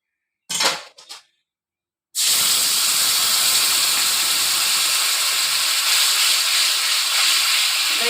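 Tamarind water is poured into hot tempering oil for a Bengali sour fish dish. After a brief clatter and a moment of silence, a sudden loud hissing sizzle erupts and holds steady and intense.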